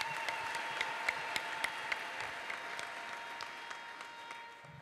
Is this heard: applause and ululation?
yes